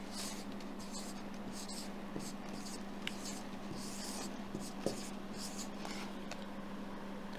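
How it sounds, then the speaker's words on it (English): Handwriting on paper, a faint continuous scratchy rub of pen strokes with occasional small taps, heard close and quiet over a steady low hum. "I'm writing the name."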